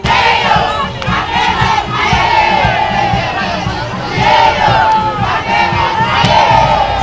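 A large crowd at Vital Kamerhe's political rally in Kwango cheers and shouts loudly and continuously, with swelling waves of voices and rhythmic chanting.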